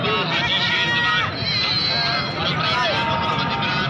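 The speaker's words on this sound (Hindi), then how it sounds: "ये दूसरे नंबर से बकरा आ गया" A goat bleating at a livestock market, several wavering nasal bleats overlapping with a busy crowd of people talking, loud and close amid the babble.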